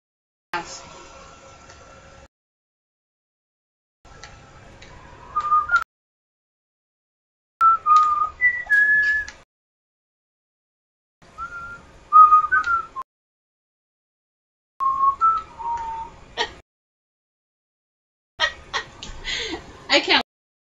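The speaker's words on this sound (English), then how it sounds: "I can't whistle very well." A person whistles short, wavering melodic phrases in six separate bursts with silent gaps between them, each moderately loud, as if trying and struggling to carry a tune.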